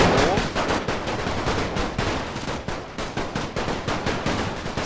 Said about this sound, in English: With all these machine guns firing